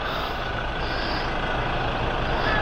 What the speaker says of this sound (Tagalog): Ay, wait lang, may sasakyan.